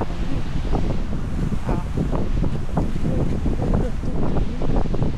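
Strong wind blows on Boracay beach, rumbling and buffeting the microphone steadily throughout, with surf faintly audible underneath.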